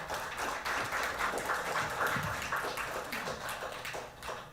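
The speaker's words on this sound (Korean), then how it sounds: "큰 박수로 환영 부탁드립니다." An audience at a Jeonbuk human rights forum session claps in a sustained, fairly soft round of applause that welcomes a presenter to the stage, fading slightly toward the end.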